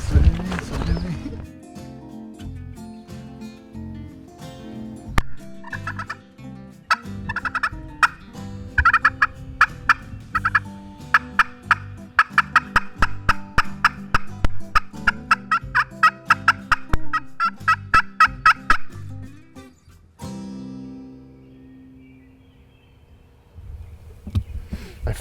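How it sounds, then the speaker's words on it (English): Wild turkeys in a Massachusetts hunting area, gobbling in repeated rapid bursts at moderate distance, with soft rustling and occasional talk around them. "There's turkeys here."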